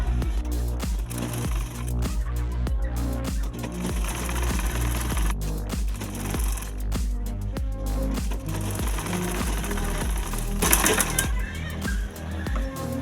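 A sewing machine stitches the shoulder seam of a dress, running in a steady, close, rapid mechanical patter with brief pauses and small changes in speed throughout.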